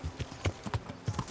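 Horse hooves clip-clop in a steady uneven rhythm of soft thuds, close by, in the medieval video game Kingdom Come: Deliverance, with no talking over them.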